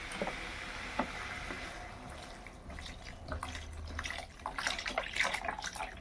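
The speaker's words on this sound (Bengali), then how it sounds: "এবার আমি জল দিয়ে দেবো।" Water poured into a cooking pot of chicken stew, a faint splashing trickle that builds into a denser, steadier pour toward the end, with no talking.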